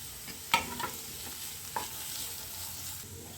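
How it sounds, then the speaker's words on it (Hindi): Capsicum, beans and carrots stir-fry in a pan for vegetable fried rice, a soft steady sizzle broken by a sharp scrape of the spatula early on and a few lighter stirring strokes, with no voices. "अब हम इसमें शिमला मिर्च, बीन्स और गाजर, ये सभी वेजिटेबल्स को डालकर 2 मिनट के लिए और फ्राई कर लेंगे।"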